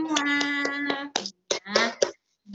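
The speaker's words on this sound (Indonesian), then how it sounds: "Tepuk tangan untuk kita semua." Classroom children clapping hands in short rhythmic bursts, a few quick claps then pauses, with a sung or chanted voice at the start.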